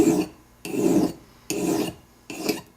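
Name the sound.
metal file filing a bezel with long strokes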